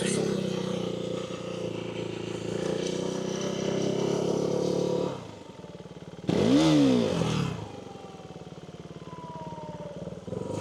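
Up close, a motorcycle idles with a steady rumble, then the engine is revved once with the clutch in, rising sharply in pitch before dropping back to a low idle.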